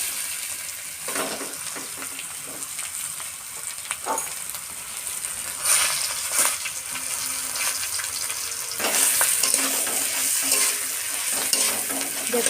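Potatoes fry in a pan with green chili and turmeric, giving a continuous close sizzle. Occasional stirring scrapes and louder bursts of crackle break through it.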